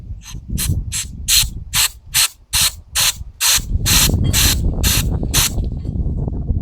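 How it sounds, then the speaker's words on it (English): Rapid bursts of aerosol cleaner sprayed into a snowblower's primer tube, about a dozen quick pumps in a row, then a longer continuous hiss with mechanical rattling underneath. "Now we'll just give a spray inside the primer tube."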